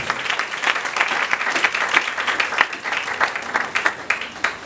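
A church congregation applauds with dense, sustained clapping from many hands, loud and close throughout, steady without pause.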